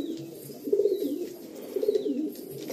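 Pigeons from a breeding pair kept for sale give soft, low cooing calls in two rounded swells over a steady murmur, close to the listener, with no talk.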